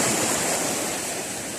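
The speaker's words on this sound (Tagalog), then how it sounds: "Tantap-talantap po yung dagat po natin." Sea waves lapping at a shoreline in the early morning, a brief, steady wash of surf noise heard up close with no talk.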